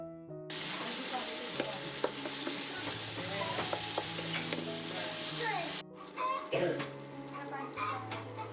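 Tomatoes with salt being stirred in a frying pan while cooking duck meat, giving a steady close sizzle with scraping stirs throughout, a brief break near six seconds, then louder clattering stirs.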